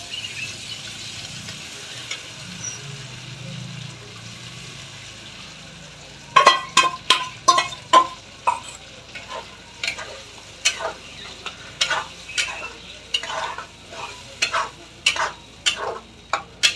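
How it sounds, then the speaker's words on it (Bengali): Ground spice paste frying in a pan for a Bengali pabda fish mustard curry, a quiet sizzle that turns into a regular series of loud, close scraping stirs about once a second, no talking. "আমি এখন দেখো এই যে বেটে রাখা মশলাটা এখানে দিয়ে দেব"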